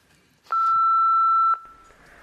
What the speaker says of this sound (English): he did leave a message on my answer phone.